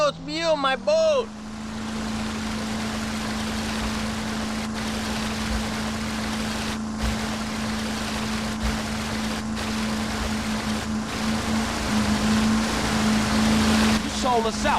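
A motorboat engine in GTA San Andreas, during the Pier 69 mission, drones steadily and loudly for the whole stretch, with wind and water noise around it. A brief voice cuts in near the start.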